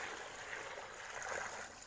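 Water from a mountain spring flows steadily in a continuous close-up trickle and gurgle, a soft broadband rush with no voices.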